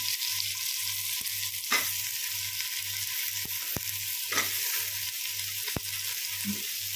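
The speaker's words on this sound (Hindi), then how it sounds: "इन सभी को अच्छे से भूनेंगे।" Potatoes, eggplant and radish stir-fry in a pan for a dhaba-style aloo palak sabzi, giving a continuous sizzle broken by occasional scrapes and clinks of the spatula, with a low rhythmic pulsing hum underneath.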